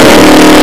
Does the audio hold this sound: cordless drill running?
no